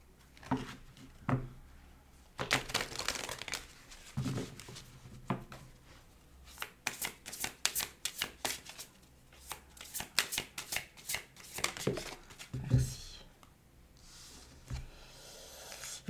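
Tarot cards shuffled by hand in a series of crisp riffles and soft flicks, close and fairly quiet, with short pauses between bursts and no speech.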